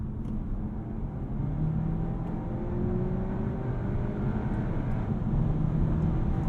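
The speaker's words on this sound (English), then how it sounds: "waited for the turbocharger to spool up and the gearbox to click down a gear or two" Turbocharged 300-horsepower engine of a 2024 VW Arteon sedan accelerating from the cabin, a steady low drone with rising tonal whine and gearbox downshifts, continuous and moderately loud with no talk.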